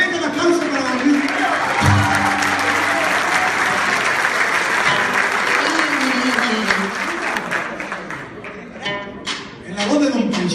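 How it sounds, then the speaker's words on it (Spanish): Sustained audience applause for a saxophone player at a live norteño music show rolls through the hall, loud and dense, with a voice speaking over it near the start and later on. "Venga, un aplauso para Don Luis"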